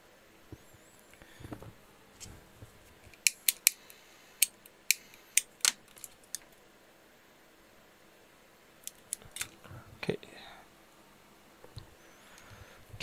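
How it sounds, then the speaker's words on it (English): Scissors snip through heat shrink tubing at a workbench, giving a string of sharp, close clicks in uneven bursts with quiet handling noise between the cuts. "So just cut any piece of heat shrink, just wrap it up."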